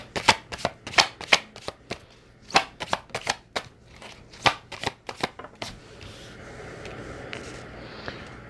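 Cards are shuffled for a tarot-style pick-a-card reading: a quick run of crisp, close riffling snaps and slaps in irregular bursts, then a softer rustle as they settle, with no voices.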